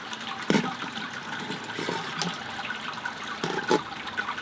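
Sparge water draining and trickling through a Grainfather G2G all-grain brewing system, a steady soft liquid wash with a few brief louder splashes, close by and without talk.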